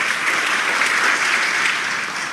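A church congregation gives God loud, sustained applause during a sermon, a dense and steady wash of many hands clapping at once, with no pause for the whole stretch.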